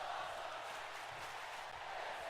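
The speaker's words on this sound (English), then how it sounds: "The crowd chanting, "This is awesome,"" A large arena crowd roars in the WWE 2K19 wrestling game, a dense, steady wash of massed voices, with no single chant standing out.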